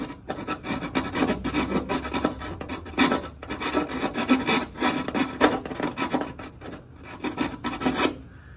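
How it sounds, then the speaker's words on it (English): A small hand file rasps back and forth on a thick rubber hood vent seal for a 2024 Ford Mustang, with quick, repeated close strokes running steadily throughout and stopping just before the end. "So we got like a little file, and we gotta trim down the inside a little bit."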